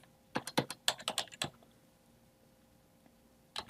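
A computer keyboard clatters as a page title is typed in all caps, a quick burst of about a dozen close, crisp keystrokes, then a pause before two more taps.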